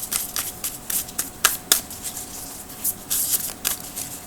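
Oracle cards riffled and shuffled by hand in a quiet room, a series of quick crisp flutters and soft slaps arriving in uneven bursts, close and fairly faint.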